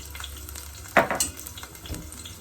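Onions drop into a hot pan and sizzle, with a sharp burst of frying and stirring followed by a steady crackle.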